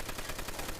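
Continuous rapid machine-gun fire from Call of Duty World at War, a fast, even rattle of shots in a brief, fairly faint burst.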